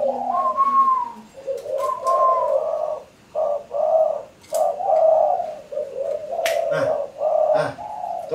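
A tame tekukur (spotted dove) cooing up close, a series of soft, rounded coos in short rhythmic phrases, with brief whistles and snapping sounds between them.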